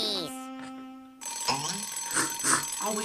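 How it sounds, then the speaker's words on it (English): A Woody Woodpecker cartoon alarm clock rings with a bright metallic jangle, then the scene turns busy with cartoon voices and clatter over further ringing. "Oh, will you shut up, alarm clock?"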